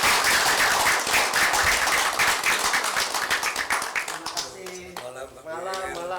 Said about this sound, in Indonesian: Aplaus dulu buat Mas Wiwit.